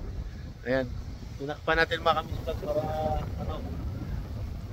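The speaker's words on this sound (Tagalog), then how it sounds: "Sobrang lakas ng hangin, no?" Gusty wind rumbles steadily against the microphone while a person talks over it.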